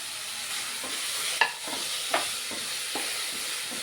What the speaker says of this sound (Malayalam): ഇതിനകത്തേക്ക് പച്ചമുളക് കൂടി ചേർത്ത് കൊടുക്കുകയാണ്.